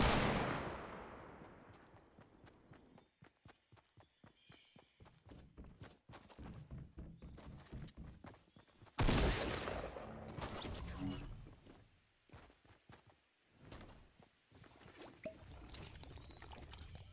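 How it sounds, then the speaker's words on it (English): Video game gunfire in a shootout at long range, heard as a dense run of sharp cracks and bursts, with rapid volleys and one louder blast in the middle and sporadic shots toward the end. "Where are they shooting from?"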